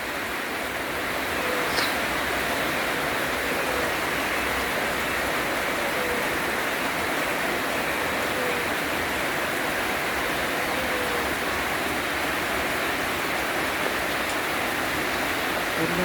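Steady rain falls throughout, a dense, even hiss of drops with no pauses, and a voice is faintly audible beneath it.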